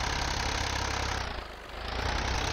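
Ford 3630 tractor engine idling steadily outdoors on a Punjab farm, a continuous low mechanical rumble with a slight dip in loudness midway, alone without talk.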